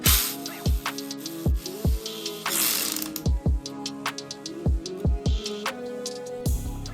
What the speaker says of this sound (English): Now using an 8mm socket, we'll remove the ground for our ignition coils.